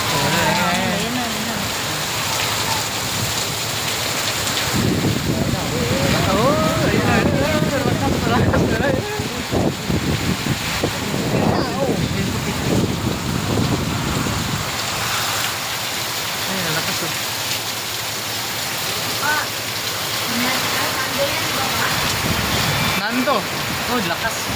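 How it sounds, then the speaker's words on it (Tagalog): Heavy rain from a super typhoon drums on a roof while gusty wind roars in waves, loud and continuous throughout, with a person talking over it. "Grabe hangin, oh. Bugso-bugso, hangin, oh."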